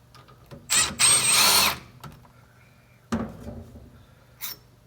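A power drill runs out galvanized rear brake bolts on a Ford F150 truck: one close, high-pitched whirring burst of about a second, then a shorter, weaker whir, with faint clicks and quiet gaps between.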